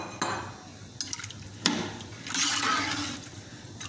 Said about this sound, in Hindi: तो थोड़ा पानी डाल देंगे।